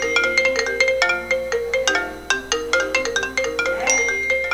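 Two mobile phones ring at the same time, their bright melodic ringtones overlapping in quick repeated chimes, loud and close, with no talking.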